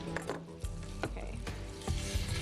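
A magret duck breast sears skin side down in a little fat in a pan, a steady close sizzle broken by a few scrapes and taps of a utensil.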